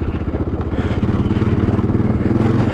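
A Honda Dominator's big single-cylinder engine thumps close up with a steady, pulsing low beat under road noise as it pulls strongly.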